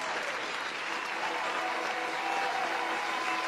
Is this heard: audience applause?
yes